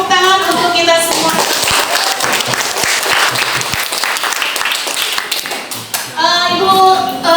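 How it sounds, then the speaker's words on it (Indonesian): A school class clapping hands together in a classroom, loud steady applause lasting several seconds, with a voice speaking before and after it. "tepuk tangan untuk kita semua"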